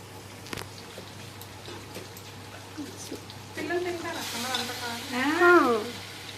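Curry frying in a pan, a low sizzle with stirring runs under a voice speaking and calling out in a home kitchen, the talk growing louder toward the end.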